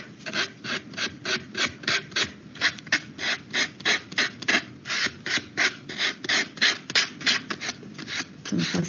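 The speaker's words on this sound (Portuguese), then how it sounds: "A gente vai pegar a lixa e vai passar nessa lateral, ó." Sandpaper is rubbed along the edge of a paper architectural model in quick, even back-and-forth strokes, close and steady, a rhythmic scratchy rasp repeating about twice per second.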